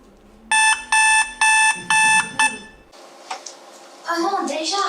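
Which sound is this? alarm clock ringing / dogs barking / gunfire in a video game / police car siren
alarm clock ringing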